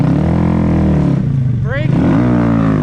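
A Honda Grom motorcycle engine droning loudly and steadily up close, dipping briefly as the bike pops a wheelie, then rising again as it pulls away.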